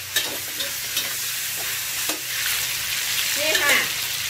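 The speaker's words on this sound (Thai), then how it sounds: "เอามาคั่วกับน้ำมันนะคะ" Pork ribs fry in oil in a home kitchen, a steady close sizzle with faint stirring scrapes and small clicks running throughout.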